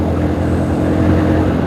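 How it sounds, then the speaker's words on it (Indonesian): A King motorcycle on a road, its engine producing a loud, steady low rumble with a droning hum that holds close and constant. "itu dia kereta King ya, keren sekali motor Kingnya itu"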